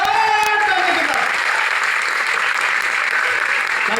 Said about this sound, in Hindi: तो हमारे मेहमान को कैसे स्वागत करना चाहिए? जोरदार जोरदार जोरदार ताली के साथ।